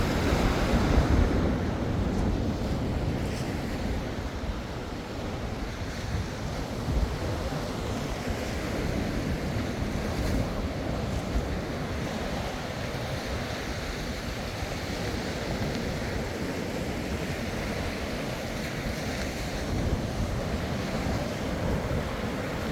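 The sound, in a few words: ocean waves on Panama City Beach, Gulf Coast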